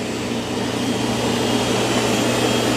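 A Roborock robot vacuum mop running back and forth across the floor, a loud, steady whirring motor hum that holds constant throughout with no speech.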